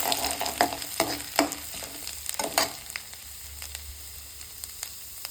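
Ginger and green chillies fry in hot oil for rava upma, sizzling steadily up close. Several sharp spatters and stirring knocks come early, then the frying settles into a softer crackle.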